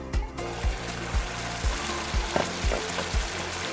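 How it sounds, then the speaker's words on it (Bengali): Dried ribbonfish curry simmers and sizzles in a pan as it is stirred, a constant frying hiss with a regular series of low spoon scrapes and knocks roughly every half second. "একটু পরপর আমি ঢাকনা খুলে তরকারিটি একটু করে নেড়ে দেবো।"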